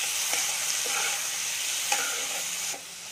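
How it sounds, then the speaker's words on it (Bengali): Chopped tomato frying in a pan while being stirred, a soft continuous sizzle with a few light scraping strokes of the spoon, heard close and alone with no talk. "টমেটোটাকে দিয়েও আমি ভালো করে হালকা করে নেড়ে নেবো"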